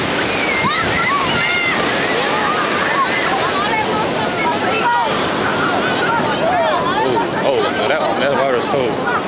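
Ocean surf at Santa Monica beach roars steadily and close throughout, with wind buffeting the microphone and a brief dip in the wash midway.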